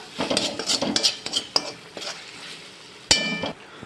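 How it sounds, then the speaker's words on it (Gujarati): Leftover roti noodles being tossed with red and green chili sauce, quick scraping and clinking of a utensil against the pan in uneven bursts, with one sharp metallic knock near the end. "હવે એક ટીસ્પૂન જેટલો રેડ ચીલી સોસ એક ટીસ્પૂન જેટલો ગ્રીન ચીલી સોસ હવે આપણે બધું જ મિક્સ કરી દઈશું"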